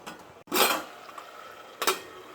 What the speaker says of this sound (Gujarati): આ રીતે ઉપર ઢાંકણ મૂકી 2 થી 3 મિનિટ માટે રહેવા દઈશું